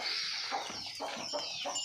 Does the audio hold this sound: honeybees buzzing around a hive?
no